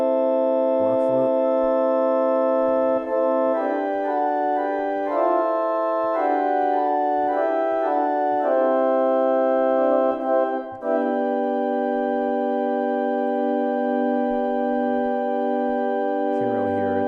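Pipe organ Block Flute stop on a two-manual American Classic organ, a bright sustained flute tone playing slowly changing chords for a long stretch, steady and close with no talk.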